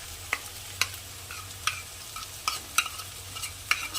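Stone-ground ginger and cumin paste fries lightly in a pan for Bengali mutton kosha, a low sizzle punctuated by roughly seven crisp, evenly spaced scrapes of a spatula stirring it.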